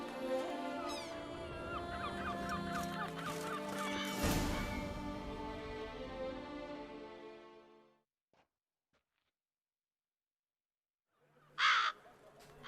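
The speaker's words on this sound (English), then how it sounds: "Crows." Crows caw in The Witcher 3 game world, a cluster of harsh repeated calls over a music-and-ambience bed that fades to near silence, then one short loud caw near the end.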